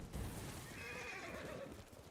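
A horse in the video game Ghost of Tsushima lets out one close, loud whinny with clip-clopping hooves beneath it, no talk over it.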